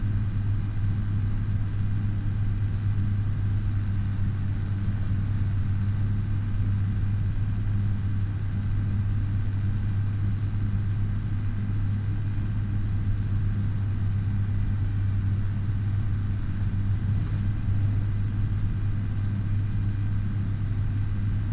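A farm tractor engine runs with a constant low droning hum, steady and unchanging throughout, with no talking.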